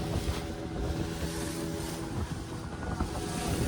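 A boat cruises out on the open sea off Tarkarli on the Konkan coast, its engine droning under a steady wash of waves and strong wind buffeting the microphone.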